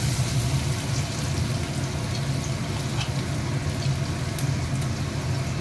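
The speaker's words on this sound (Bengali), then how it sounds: "এবার তেল গরম হয়ে গেছে, এবার জিরেগুলো দেবো, গোটা জিরে দিয়ে দিলাম, রসুন কুচি দিয়ে দিলাম" Whole cumin seeds and chopped garlic sizzling in hot oil in a home kitchen, a steady dense crackling fry that holds evenly throughout at close range, with no talking.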